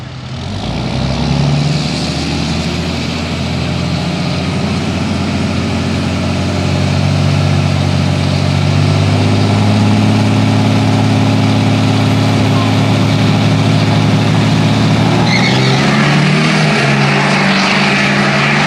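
A 2014 GMC and a 2007 Dodge diesel pickup drag racing, a loud continuous engine roar with deep low rumble sustained throughout, shifting in tone near the end as the trucks run down the strip.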